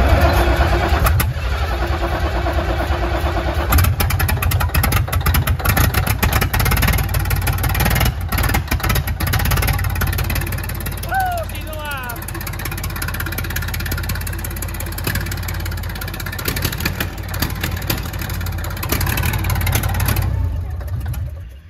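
The Johnny Cash cabover truck's engine, not run for 27 years, cranks, catches and keeps running, a rough, loud, near rumble with sputtering bursts as people talk over it.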